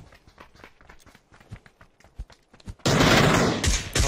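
PUBG gunfire in a ranked squad match with an M416: light scattered taps first, then a sudden loud, sustained burst of rapid shots that carries on to the end.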